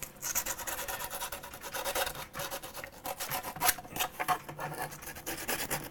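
Hand sanding of a 3D print gives a close, continuous rasping scrub in quick rhythmic back-and-forth strokes, fairly quiet and alone.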